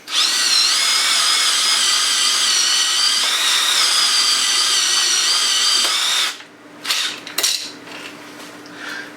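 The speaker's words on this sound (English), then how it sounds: "So when to drill it, to close it up, I just put a drill in." A power drill whines loudly and steadily for about six seconds while closing a food can, then stops, followed by a few clanks and rattles of metal.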